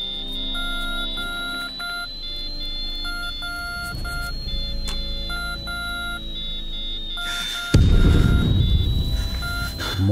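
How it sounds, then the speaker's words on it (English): Morse code beeps in the video game Ad Infinitum: a sustained high tone with short repeated electronic pulses over a low droning background, which swells into a louder rumbling noise near the end. "writing down Morse code"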